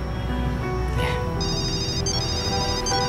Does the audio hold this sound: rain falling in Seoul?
no